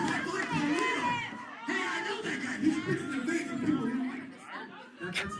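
A wrestling match crowd cheers and shouts, a dense roar of many voices that holds steady throughout and swells briefly.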